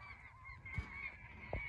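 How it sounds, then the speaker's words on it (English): Gulls or seabirds calling loudly and excitedly out at sea ahead of a fishing boat off the UK coast, a sustained raucous honking chorus with sharper cries near 0.8 and 1.5 seconds over engine and wind noise. "Birds going mental up ahead"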